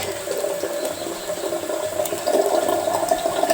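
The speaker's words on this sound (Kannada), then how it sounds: "ನೀರು ಹಾಕ್ಬೇಕು, ನೀರು ತುಂಬಿರ್ತಾರೆ." Water pours steadily into a cooking pan while a spicy chayote dish is being made, a continuous rushing splash with no talk.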